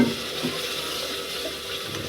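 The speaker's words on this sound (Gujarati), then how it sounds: "પાણી થોડુંક એડ કરી દઈ" Water pours steadily into a cooking pan of turmeric and chilli spices, a continuous close splashing hiss with no talk over it.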